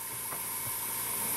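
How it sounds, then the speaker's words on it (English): An airbrush sprays paint onto a 1/48 Tamiya model kit on a spray work stand. It gives a steady, even hiss with faint background hum and a couple of soft clicks. "I can spray pretty much uninterrupted."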